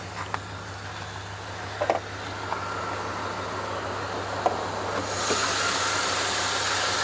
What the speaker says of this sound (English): gonna take you guys to the engine so you can hear how quiet and nice this engine sounds